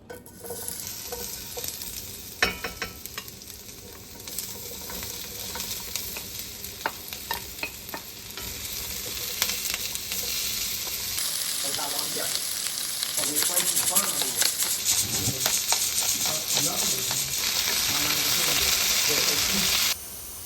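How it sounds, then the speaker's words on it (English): Potatoes frying in olive oil in a cast iron skillet, cooking until golden brown: a steady close sizzle that grows louder toward the end, broken by frequent scraping and stirring clatters. No one talks. "cook up our potatoes until they're nice and golden brown"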